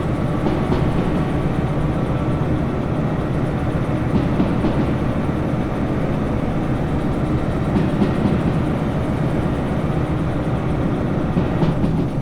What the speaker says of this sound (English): I don't want to overtax this locomotive here